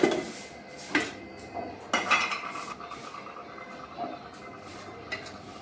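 A spoon clinks and scrapes against a pan while methi matar malai curry is stirred and mixed, with several sharp metallic knocks over a soft background.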